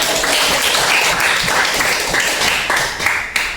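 A class or congregation claps on cue, fairly loud and steady with a few sharper individual claps near the end.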